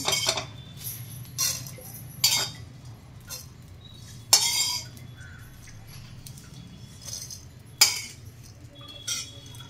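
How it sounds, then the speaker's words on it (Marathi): Intermittent metallic scrapes and clinks of a utensil against a kadhai as dried shrimp is scooped out into a dish, with quiet pauses between. "आता ही मी काढून घेते एका डिश मध्ये।"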